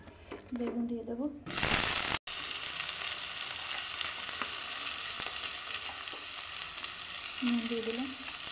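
Eggplant fries in a pan for a koi fish curry with a dense, continuous sizzle that swells after a sharp clatter, while a voice talks briefly at the start and again near the end.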